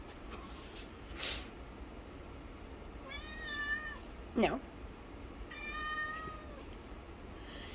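Two drawn-out meows from a house cat trying to reach a kitchen faucet rise clearly over steady room noise, with a short sharp sound between them and someone speaking briefly.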